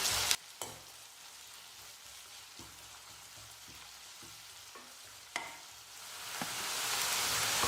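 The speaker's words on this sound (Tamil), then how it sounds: "இது கூடவே கொஞ்சம் கருவேப்பிலையும் சேர்த்து வெங்காயத்தை நல்லா வதக்கிக்கிறேன்" Onions, garlic and curry leaves sauté in hot oil for a kulambu, a soft continuous sizzle with occasional spoon knocks and scrapes against the pan; the frying swells louder near the end, and no one speaks.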